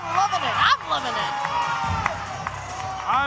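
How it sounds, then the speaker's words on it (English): A crowd at a wrestling event in Davis Arena cheers and whoops. Shouts rise and fall in bursts, with a loud swell near the start and again at the end, under an announcer's talk. "The crowd loving it. I'm loving it."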